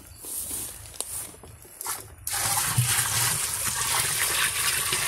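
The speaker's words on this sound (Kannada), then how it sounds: "ಈ ಗಂಜಲನ ಒಳಗಡೆ ಹಾಕೋಣ." Cow urine poured from a bucket into a jeevamrutha mix of dung, first a few splashes and soft knocks, then a steady, loud, close gushing pour running to the end.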